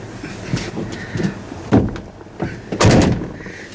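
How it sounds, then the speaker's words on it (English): A truck door shutting: a few soft knocks and latch clicks build to two firm slams, close and clear, with no talking. "We have the door that shuts properly, and then that side shuts properly."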